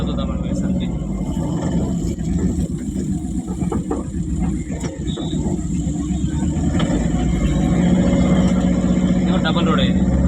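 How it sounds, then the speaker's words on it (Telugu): Vehicle moving off from a petrol station, a steady engine rumble with road noise building over about ten seconds while someone talks over it. "పెట్రోల్ బంక్ నుంచి బండి బయలుదేరుతుంది"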